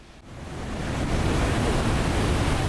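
Niagara Falls thunders from Terrapin Point on Goat Island, a broad, steady roar of falling water that swells slightly and then holds, loud and continuous, with no voices.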